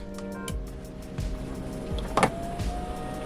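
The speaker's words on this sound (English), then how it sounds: "My diesel heater comes on" A small diesel heater in an RV whirs into action with a steady hum and faint clicks and ticks, close by and fairly quiet.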